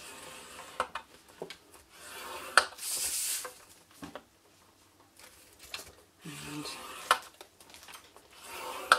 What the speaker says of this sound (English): Score it again 1 inch and 2 inches and rotate until you've done all 4 sides.